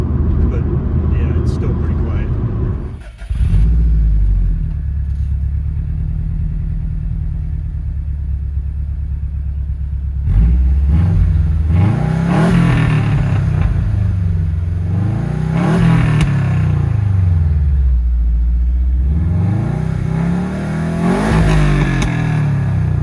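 A 2004 Subaru WRX STI engine idles with a low, steady rumble, then revs up and down in repeated swells. Voices talk over it.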